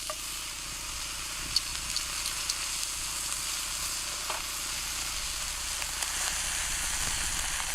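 A steak sears in a pan with a steady, close sizzling hiss, continuous and even, with faint pops and crackles and no voices over it.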